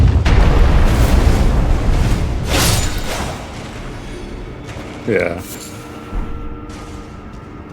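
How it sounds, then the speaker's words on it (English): A cannon in Elden Ring fires and bursts with a loud, heavy boom that rolls into a long rumbling decay, followed by a few smaller impacts and game effects, with a voice briefly speaking. "This bitch has another cannon."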